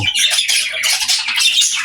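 A pet cockatiel gives a run of harsh, high-pitched squawking calls close by, with short repeated bursts running almost without pause and no talking.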